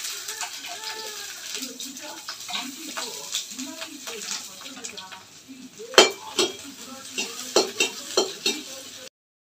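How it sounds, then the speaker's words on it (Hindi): Onion and tomato fry in oil in an Indian kadhai, giving a soft steady sizzle with stirring scrapes and a few sharp clinks of a utensil against the pan, in a home kitchen. "इसमें कढ़ाई में मैंने तेल डाल दिया है, इसमें हल्का सा भून लूंगी ये प्याज टमाटर को।"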